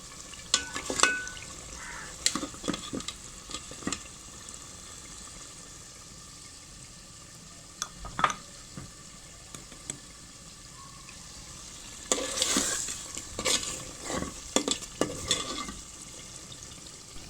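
Meat and potatoes being stir-fried in a pot, with a low steady sizzle broken by bursts of scraping and stirring clatter near the start and again toward the end, no voices.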